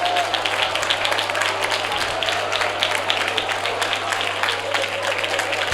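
A congregation claps in praise during a Hindi-language church youth camp service, a steady dense clatter of many hands continuing throughout, with no clear speech over it.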